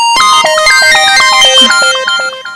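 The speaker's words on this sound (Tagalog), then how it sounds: "may nanawag sa akong cellphone" A cellphone rings loudly with an incoming call, a bright melodic ringtone of quick tumbling notes playing alone and close, fading slightly at the end.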